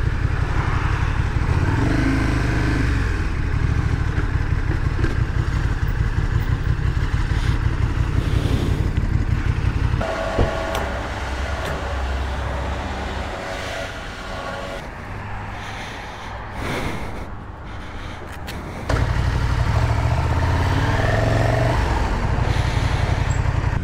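A 2020 KTM Super Duke R with a V-twin engine is ridden, its deep rumbling exhaust loud and steady throughout, easing off midway before the throttle opens again.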